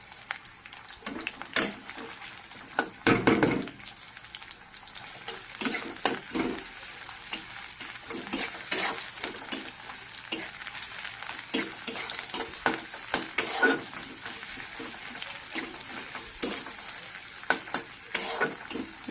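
Onion, chili and chopped garlic fry in oil in a pan, a continuous soft sizzle with frequent scraping and stirring clatter throughout.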